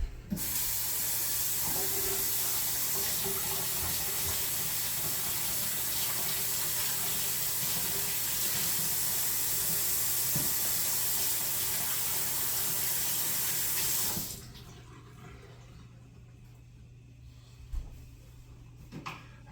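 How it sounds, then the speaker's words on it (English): Hands are washed under a running kitchen sink tap, a steady hiss of streaming water with light splashing for about fourteen seconds, then the tap shuts off, leaving a quiet room and a few small knocks. "I'll wash my hands"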